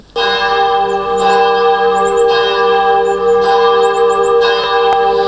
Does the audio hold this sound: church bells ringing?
yes